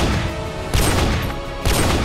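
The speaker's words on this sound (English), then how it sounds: "Bro, I just sniped his head off like 3 times!" Sniper rifle shots in the Roblox game War Tycoon, two sharp loud reports about a second apart over a dense, noisy battle background, with no talking.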